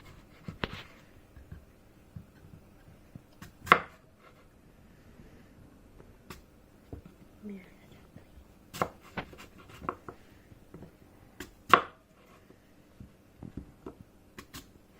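Apples being chopped for apple crumble: scattered knife taps on a cutting board, irregular and fairly quiet, with a couple of sharper, louder chops standing out and soft handling noise between them.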